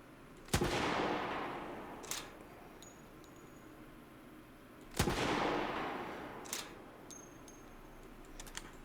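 Rifle shots in a zombie video game: two sharp, loud cracks about four seconds apart, each followed by a fading echo, with small clicks and faint keyboard taps between them.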